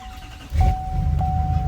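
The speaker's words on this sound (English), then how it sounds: "that's the truck firing up right there" Pickup truck engine firing up after snow camping, a sudden low rumble that catches and settles into a steady idle, close by, with a thin high whine running through it.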